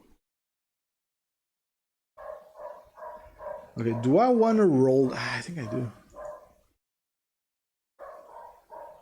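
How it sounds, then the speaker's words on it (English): A dog barks in a quick series of short yelps, then lets out a louder drawn-out howling whine, with more barks near the end, all somewhat distant behind someone talking. "You guys hear barking? That's super annoying."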